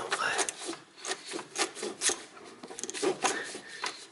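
Plastic distributor cap being worked loose on a car that won't start, giving repeated close scraping and rubbing clicks in short bursts with no talk.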